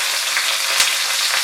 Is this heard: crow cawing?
no